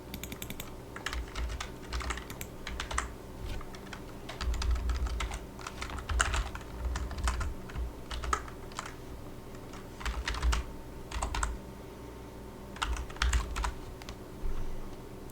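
Bursts of close computer keyboard typing as a name and email are entered into a form, quick clusters of key clicks separated by short pauses, with no talking.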